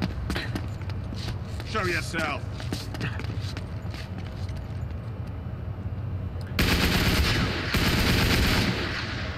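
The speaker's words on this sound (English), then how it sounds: "I'm gonna try and shoot him now." Gunshots ring out in the video game Uncharted 3: Drake's Deception, scattered bursts and quick rattling fire mixed with game noise, under a player speaking, with a louder stretch of action near the end.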